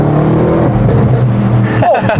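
An Audi RS6 Performance engine growls loudly and steadily up close, a deep rumbling note held throughout, with a voice briefly heard over it.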